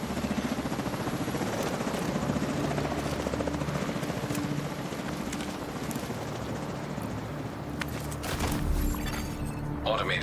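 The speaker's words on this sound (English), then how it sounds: "Recon 4 has a visual on an unknown helo headed east over the Potomac." Helicopter rotor drone from The Division 2, a steady low thrum flying over the Potomac in Washington D.C., continuous throughout with game effects and a brief burst of noise near the end, under radio-style talk.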